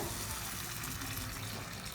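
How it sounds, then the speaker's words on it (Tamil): Tamarind water poured into oil-fried masala for a chickpea (kondakadalai) gravy, a steady continuous liquid pour and splash lasting the whole moment at close range. "கரைச்சி வச்சுருக்க புளி தண்ணியை நீங்கள் இது கூட சேர்த்துக்கோங்க"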